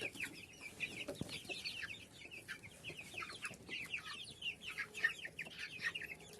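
A flock of chickens and roosters clucking and chattering continuously at moderate distance, with layered overlapping calls and no talking.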